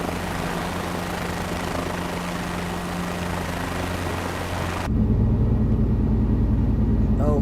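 Helicopter in Microsoft Flight Simulator 2024 hovering over a helipad, a steady droning rotor and engine hum that shifts abruptly partway through to a harsher, buzzier rumble with rhythmic blade chop.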